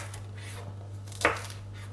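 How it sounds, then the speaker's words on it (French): A kitchen knife makes one sharp crisp cut through an asparagus tip, splitting it lengthwise in half. It is a single brief near stroke over a steady low hum, with no voices. "Les pointes d'asperges, on va tout simplement les fendre en deux"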